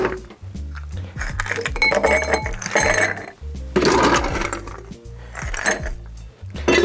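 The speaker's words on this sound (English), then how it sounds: "I have sort of a tulip style glass here. I'm going to add fresh ice to this." Fresh ice cubes are dropped into a tulip-style glass for a limoncello and tequila cocktail, giving a busy run of close, bright clinks and rattles that goes on throughout.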